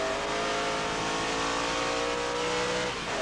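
TVR Tuscan race cars racing at Silverstone in 1993, a continuous loud, dense engine roar with rising pitch as cars climb through the gears, sustained without breaks.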